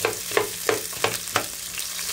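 Garlic and onion frying in oil for a beef kaldereta, a constant nearby sizzle with quick, regular clacks of a spatula stirring roughly three times a second.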